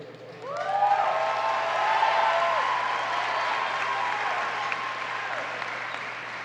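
Audience at a 2018 high school graduation ceremony for CSKYWLA and B.E.S.T. Academy breaks into steady sustained applause and cheering, a broad wash of clapping with a few whoops over it, loud and continuous throughout.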